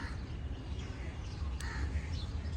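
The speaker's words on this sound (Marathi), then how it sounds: "या झाडामध्ये बघा एक कावळा आहे कधीचा काव काव करतोय" A crow caws a few times from a tree, fairly faint and distant, over steady low outdoor background noise.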